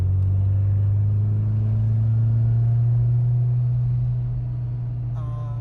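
A 1988 Peugeot 205 GTi with a 1.9-litre engine and five-speed manual gearbox on a road test drive: a steady, loud engine drone and low road rumble from inside the car, easing slightly near the end.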